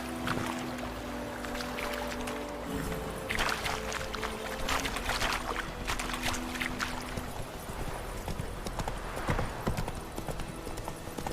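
Hooves of a horse galloping in The Witcher 3, a steady, loud clip-clop rhythm over a constant background bed of game ambience, running throughout without pause.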